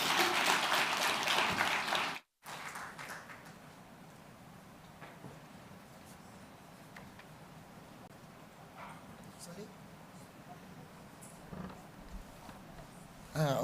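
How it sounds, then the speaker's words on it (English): Brief burst of audience applause at the African Forum on Urban Forests as a speaker walks on stage. It is loud for about two seconds, then cuts off abruptly and gives way to quiet talking in the hall. "A round of applause, please, as she comes on."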